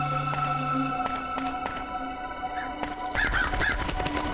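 Crows caw in the video game Crow Country, a few harsh calls set over game sounds with sustained tones and sharp clicking hits, the calls growing louder and closer near the end.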